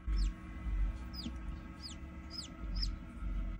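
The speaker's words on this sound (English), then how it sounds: "someone's gonna be hatching real soon if I'm hearing peeping in there" Baby chicks peep inside an incubator ahead of hatching, a run of five high, short chirps spaced roughly half a second apart over a steady low hum.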